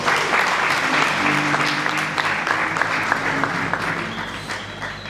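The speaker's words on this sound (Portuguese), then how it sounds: "Isto não merece uma salva de palmas para a juventude." A crowd at a political party gathering bursts into dense, sustained applause that holds steady and loud throughout, with a faint murmur of voices mixed in.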